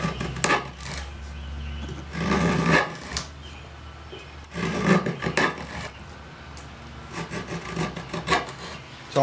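A woodworking tool slices across wood while carving facets into the underside of a chair seat, a series of close rasping strokes in uneven bursts separated by short pauses.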